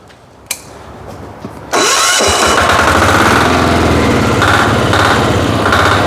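A Motor Sich walk-behind tractor engine starts up with a loud burst and then runs steadily close by at a constant, rough, droning pitch, after a few quieter clicks and handling noises.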